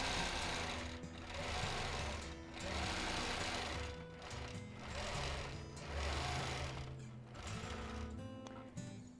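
A quilting machine runs free-motion stitching across a custom quilt, its rapid mechanical stitching hum rising and easing in repeated bursts with short slowdowns between passes.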